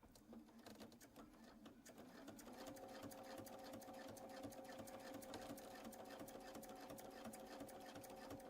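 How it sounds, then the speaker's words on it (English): A sewing machine runs steadily while stitching a quilt seam through fabric, its motor whirring with a rapid needle chatter that rises slightly and then holds even, fairly quiet and close. "we're going to stitch that seam"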